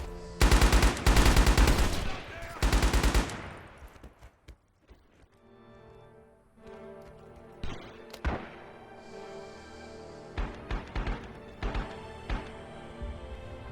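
Automatic gunfire in the video game Rising Storm, including an M1918 Browning Automatic Rifle: two loud, rapid bursts up close at the start, followed by scattered single shots and short volleys at varying distances.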